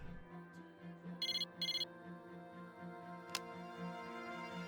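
A cell phone ringtone in the Persona 3 Portable video game chirps in two quick bright bursts over a soft background music bed, followed by a single sharp tick.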